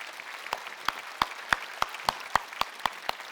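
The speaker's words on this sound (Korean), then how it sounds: "하나님께 박수 칩시다" Within a church hall at a Wednesday worship service, a few slow, evenly spaced claps ring out clearly over a quiet murmur, roughly three crisp hits per second.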